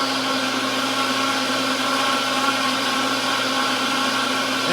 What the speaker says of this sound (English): This blender is called the DynaPro